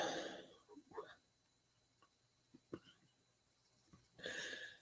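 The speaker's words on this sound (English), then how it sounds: "I keep burping." A few short, faint burps, two or three quick gulping bursts in a quiet room, come after eating a Paqui One Chip Challenge spicy chip.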